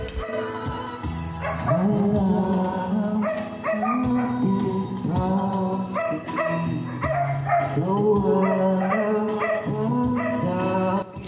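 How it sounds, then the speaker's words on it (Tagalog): Several dogs bark and yap continuously, overlapping and agitated, close by and loud, with a brief exclamation from a person. "Hindi pa nga ako nagsisimula, galit na galit na sa akin ng mga aso."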